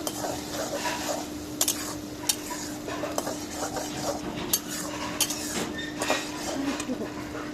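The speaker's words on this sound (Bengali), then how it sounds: "রেখে দিলাম, লাড়া দিয়ে দিলাম" Dried churi fish (shutki) curry stirred in a pot, with a spoon scraping and clinking against the metal in irregular taps over a faint simmering sizzle and a steady low hum.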